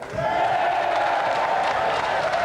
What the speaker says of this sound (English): A more round of applause for our champion, Chevron Hart.